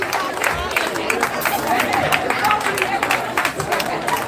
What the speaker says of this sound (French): je vous demande de vous applaudir bien fort vous-même